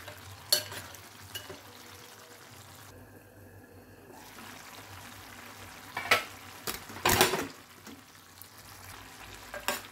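Prawn and gongura curry simmering in a pan, a soft steady sizzle and bubbling with occasional louder stirring scrapes and clinks, fairly quiet and close.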